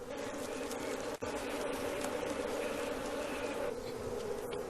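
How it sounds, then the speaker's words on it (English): Hundreds of angry African bees swarm around a hollow honey tree, their dense buzzing droning steadily and close throughout, with one brief sharp dip partway through. "protected by hundreds of angry African bees"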